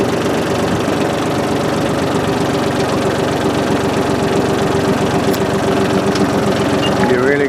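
A lawn mower engine runs steadily and loudly near at hand while mowing a clover field, a constant rattling drone that keeps an even pitch from start to finish.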